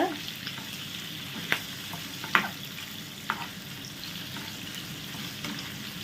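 Marinated prawns for a Mangalore-style ghee roast fry in a pan, a steady close sizzle running throughout, with a few sharp scraping clicks as a spatula stirs them.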